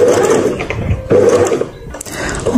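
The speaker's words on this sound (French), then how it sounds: "je couds bien au niveau de la couture" A sewing machine runs close in quick whirring bursts while stitching the seam of a short-sleeved top, pausing briefly between two runs, with no talk.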